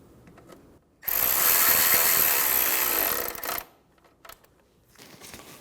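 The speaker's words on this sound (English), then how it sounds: "Install the 2 screws in the rear. Install the plastic nut." Screws are driven in to fasten a plastic inner fender liner on a Chevrolet Sonic, with a loud burst of tool whirring and ratcheting that lasts a few seconds, followed by a few faint clicks and handling noises.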